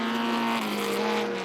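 Vintage race cars, a small Lotus and a Datsun, scream past at an SVRA race at Mid-Ohio, their engines loud and close, with a sustained high engine whine and a pitch shift partway through.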